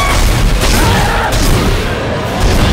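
Loud explosion in the sci-fi horror video game Dead Space 2, a heavy booming blast with crackling debris that fills the whole moment, no talking over it.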